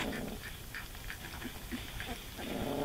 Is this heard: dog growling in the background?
yes